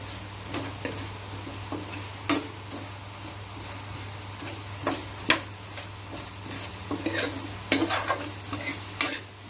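A ladle stirs and mashes tomatoes in a spiced tempering in a frying pan for Amritsari kaddu vadiyan. A soft, steady sizzle runs underneath irregular sharp clicks and scrapes of the ladle against the pan.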